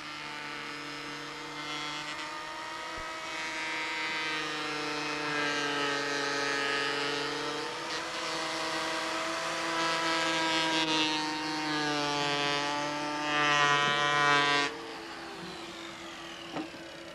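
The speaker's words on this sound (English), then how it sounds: "The Gelplane is based on a standard AEG motor and Bosch drum" A Gelplane gelcoat peeler built on an AEG motor and Bosch drum runs continuously with a steady, high mechanical whine whose pitch drifts up and down slightly, loud and close, before it cuts off near the end.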